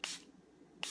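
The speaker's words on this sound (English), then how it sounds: "give it a few more sprays." A spray bottle misting dye onto fabric gives two short, soft hissing spritzes nearly a second apart, quiet and close, with near silence between them.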